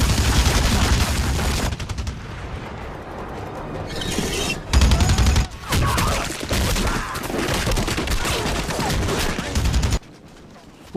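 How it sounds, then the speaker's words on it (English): A Rambo movie shootout, with a Vietnam veteran fighting commando soldiers, roars with loud, dense bursts of automatic gunfire, rapid volleys and heavy booms that surge and cut out abruptly, then drop to a quieter tail at the end. "What makes this shootout so epic is the amount of carnage it shows."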